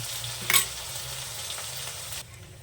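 A ground paste of ginger, garlic, cumin, green chilli and onion sizzles hard in hot oil for a pea and potato curry, with a sharp spatula scrape near the start and the hiss easing toward the end.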